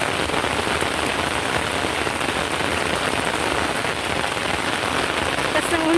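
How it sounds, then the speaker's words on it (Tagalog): Heavy rain pours down in the botanical orchid garden in Singapore, a dense, steady, close hiss of drops striking surfaces that holds unbroken throughout with no pauses. "Ang lakas ng ulan."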